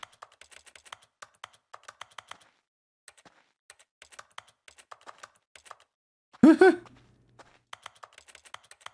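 Keyboard key clicks sound with every mouse click in The Stanley Parable: Ultra Deluxe, a steady run of light, close typing taps over several seconds, broken once by a short louder tonal burst.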